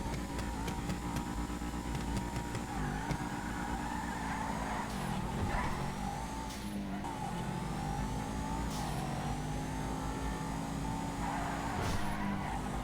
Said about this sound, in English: Let's do a sound test. I don't remember how the Massacro sounds.